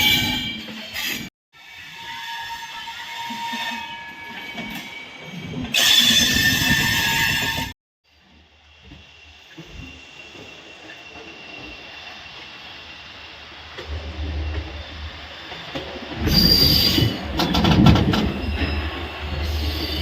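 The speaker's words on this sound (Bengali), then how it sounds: "আর এইবার আমরা ফাইনালি আস্তে আস্তে ঢুকছি পুরী স্টেশনে।" A Kolkata–Puri special passenger train slowly rolls into Puri station, its wheels rumbling and clacking with bursts of squealing metal and brake hiss, loud and close, fading into a quieter stretch before the clatter and screech swell again.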